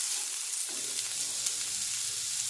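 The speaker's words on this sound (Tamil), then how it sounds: "இப்போ பார்த்தீங்கன்னா வெங்காயம் சேர்த்துக்கிறோம். பச்சை மிளகாய் போடுறவங்க இப்போ வெங்காயம் சேர்த்து போடணுன்னு உடனே பச்சை மிளகாவும் போட்டு வதக்கிங்க." Onion and green chillies sautéing in a pan, a loud, dense, continuous sizzle that swells as the ingredients hit the oil, close up and steady.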